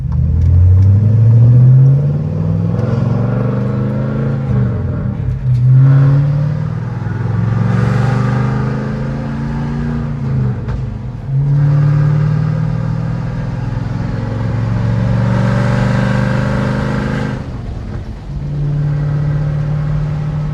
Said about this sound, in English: listen to some glorious V8 noises